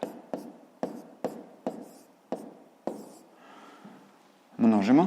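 A pen writes numbers by hand on paper while working a multiplication, making a string of short scratchy strokes at an uneven pace, and a voice speaks briefly near the end.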